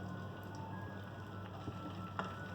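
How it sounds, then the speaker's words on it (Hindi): Half a beaten egg fries in a tablespoon of oil in a pan, giving a soft, continuous sizzle and crackle at low volume, with a faint steady hum underneath and a couple of small pops. "उसको फ्राई कर लेंगे।"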